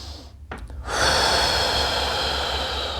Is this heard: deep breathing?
yes